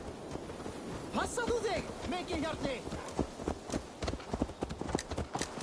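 Horse hooves clip-clop at a steady trot in the video game Assassin's Creed Valhalla, rhythmic and close, mixed with game ambience and other voices talking.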